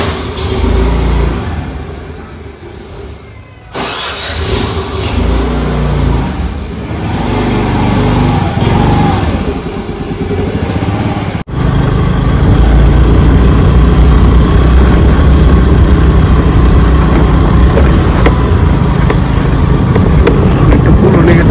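A motorcycle engine runs loud and close, rising and settling through its idle with a sharp break partway before a steady, heavy drone continues.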